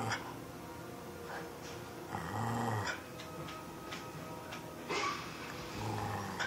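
A dog growls during an indoor game of fetch, in low rumbling bursts that rise and fall several times, close to the microphone with no talking.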